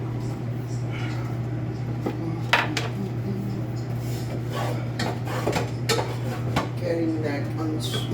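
Shrimp and onion scraped loose from the bottom of a pan, a series of short metallic scrapes and clinks over a steady low kitchen hum, close by, with a voice speaking.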